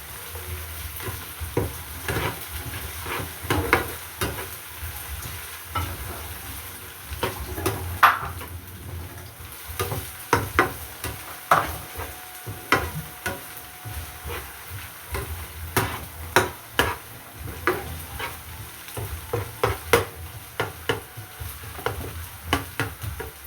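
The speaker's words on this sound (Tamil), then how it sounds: "இஞ்சி உள்ளி எல்லாம் வதங்கி சின்ன வெங்காயத்தோட வதங்கி வரைக்கும் ஒரு நல்ல ஒரு ஸ்மெல் ஒன்று வருது" Ginger, garlic and shallots sizzle in hot oil for chicken fried rice, a steady frying hiss broken by repeated sharp scrapes and clicks of stirring against the pan.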